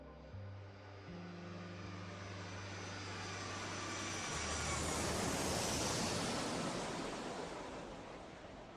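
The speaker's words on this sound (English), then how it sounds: "Japan Airlines Flight 123 takes off at 6:12 p.m. And as the aircraft powers through the clouds" A Japan Airlines airliner takes off and climbs, its engine roar swelling into a loud, broad rushing sound that peaks mid-way and stays strong, with a low drone at the start.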